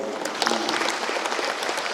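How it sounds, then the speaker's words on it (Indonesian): Applause from an audience at a regency government event handing over church construction grants in Yahukimo, Papua, steady clapping filling the whole two seconds with no voices on top. "tepuk tangan untuk Pak Wakil"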